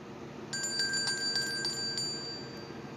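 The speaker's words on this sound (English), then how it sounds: "You enjoy that bell." A small handheld bell rings in a quick run of bright metallic strikes with a long sustained ring, fairly close and clear, then fades.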